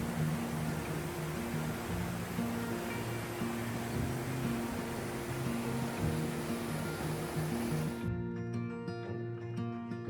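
Wahkeena Falls, a 242-foot tiered waterfall in the Columbia River Gorge, gives a constant broadband rush of falling water, fairly faint and distant, with a low engine-like drone beneath before cutting off abruptly near the end.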